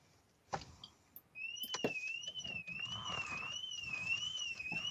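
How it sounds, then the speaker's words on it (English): An electronic alarm goes off inside a building, sounding a continuous wavering two-tone siren that starts abruptly after a few knocks and thumps and then keeps going steadily and fairly loud. "Oh, we have an alarm going off."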